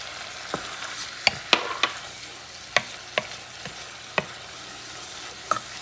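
Black eyed peas stew base seasoned with paprika and pepper sizzles in the pot under steady frying hiss, while a spoon stirs it with sharp scraping clicks spread irregularly through the mix.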